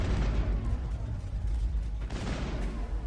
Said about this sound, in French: Ah oui, en plus il y avait des explosions